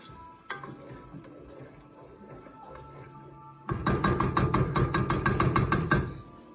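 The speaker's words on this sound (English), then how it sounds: "we stir it all up so everything's getting all that flavor" Food sizzles in a pan with a low steady hiss, then vigorous stirring starts, with rapid, rhythmic, loud scraping strokes for a few seconds before easing off.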